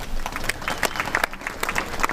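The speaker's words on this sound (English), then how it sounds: "if you'll give them a round of applause." Crowd applause at an outdoor groundbreaking ceremony, a brief burst of many hands clapping together at moderate distance.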